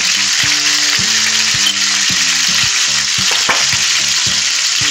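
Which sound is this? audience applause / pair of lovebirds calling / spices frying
spices frying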